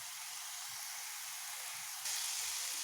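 Fish curry gravy in mustard oil frying steadily in a pan, a soft continuous sizzle and hiss that brightens slightly toward the end, close and alone with no voices.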